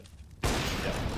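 A gunshot cracks out in the video game CS:GO, an abrupt loud blast after a quiet lead-in, followed by sustained noisy echo and reverberation to the end.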